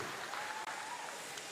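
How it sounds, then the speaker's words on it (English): An audience applauding at a senior wool handling competition heat during the Golden Shears, a brief burst of steady clapping with a faint whoop above it, moderately distant. "Give them a round of applause"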